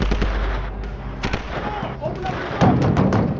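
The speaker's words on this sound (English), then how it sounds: "Repeated gunfire echoed through Washington D.C. police headquarters." Sharp gunshots crack repeatedly in an uneven burst inside Washington D.C. police headquarters, loud and echoing, with a faint voice underneath.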